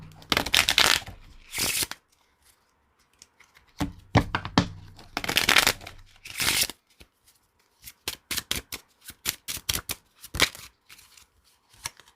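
Tarot cards being shuffled for a reading: bursts of papery riffling and bridging, then a run of quick, crisp card snaps and taps, close up with no talking.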